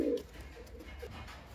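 Teddy breed pigeons coo in a short, soft burst at the start, then only a faint, low murmur lingers nearby with no talking.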